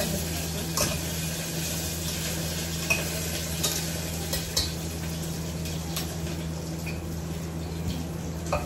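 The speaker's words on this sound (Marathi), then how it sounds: "छान गोल्डन ब्राऊन पर्यंत आपल्याला गार्लिकला परतून घ्यायचंय." Garlic fries in a hot pan toward golden brown, giving off a continuous even sizzle with occasional light clicks of stirring, close by and without any talk.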